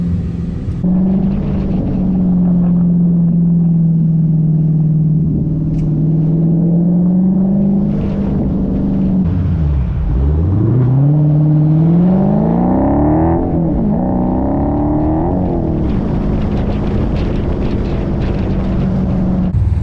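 A 2023 Dodge Challenger R/T Scat Pack Widebody with its Hemi V8 drives along, its engine humming steadily at first, then dipping and climbing through revs with loud rises and falls, close and continuous with some wind noise.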